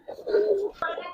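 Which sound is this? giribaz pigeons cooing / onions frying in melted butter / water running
giribaz pigeons cooing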